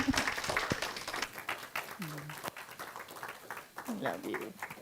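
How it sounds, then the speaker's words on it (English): A church congregation applauds for a reverend, a moderate wash of clapping with a few voices calling out over it. "please give a loving, precious round of loving applause for Reverend Carmen"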